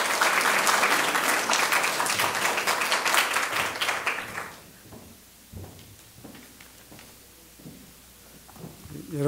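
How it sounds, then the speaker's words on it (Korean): Audience applause welcoming a newspaper executive to the podium at a university presentation contest, dense clapping that fades out after about four seconds into scattered claps, footsteps and room noise. "여러분들 큰 박수로 맞이해 주시기 바랍니다."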